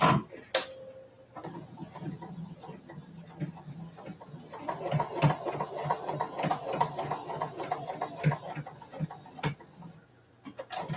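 A sewing machine stitches fabric at a sewing bee session, a soft, quiet whirr with ticking clicks that picks up into a busier run midway, with faint background sounds and no clear talk.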